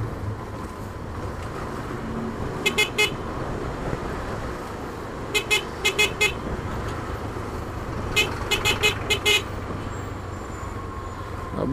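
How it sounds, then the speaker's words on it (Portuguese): Short car horn honks sound in three clusters over steady traffic rumble in a Brazilian city jam; the horn is loose and vibrating excessively, giving each toot a buzzy edge. "A buzina já tá vibrando demais"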